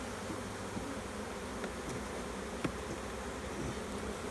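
Honeybees buzz steadily around an open hive during an inspection of brood frames, a close, even drone with a few faint knocks and taps from handling the frames and no talking.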